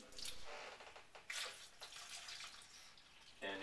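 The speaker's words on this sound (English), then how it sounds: "we're going to take and fill the rest of this up with water" Tap water runs into a blender container for a green smoothie, a quiet splashing and gurgling stream with a few louder bursts, with no one speaking.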